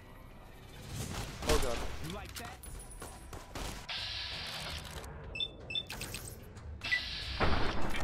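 Rapid gunfire aimed at the player in the post-apocalyptic game Fallout, bursts of shots and volleys mixed with other game effects, while people talk over it.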